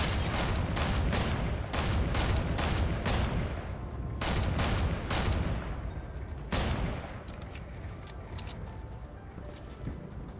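Rapid bursts of gunfire from a video game shooter, loud and close, with repeated volleys of shots fired in quick succession, then a sustained rumble as the firing tapers off.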